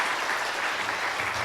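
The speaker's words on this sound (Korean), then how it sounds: "우리 찬양대에게 뜨겁게 박수 한번 드립시다." Church congregation applauding the choir after a hymn, a steady, dense wash of clapping that fills the whole moment without a break.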